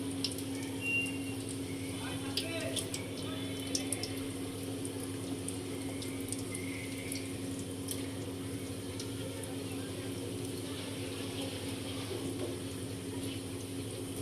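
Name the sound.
frying snacks in light oil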